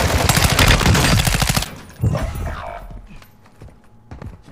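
Rapid bursts of video-game gunfire, dense and loud for about a second and a half, then fading into softer scattered shots and thuds.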